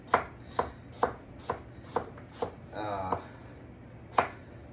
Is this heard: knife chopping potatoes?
yes